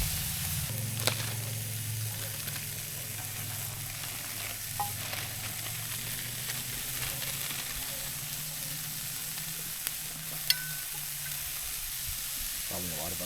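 Onions frying in a pan at a camp stove outdoors, a steady broadband sizzle running continuously with a few faint clicks and a low hum underneath.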